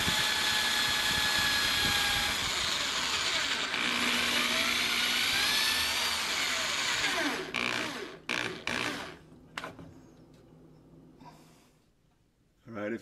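A power drill drives a self-tapping screw into a bi-fold door track, a loud continuous whine for several seconds that then breaks into short stuttering bursts and stops as the screw seats.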